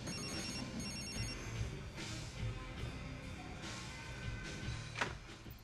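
A telephone ringing indoors, a faint repeated electronic ring in short bursts that sits low against room noise, with a few soft knocks and shuffles.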